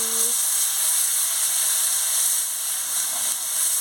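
Potato curry with spices boils vigorously in a pot, a steady close bubbling hiss with a faint tone at the start, continuous and fairly loud.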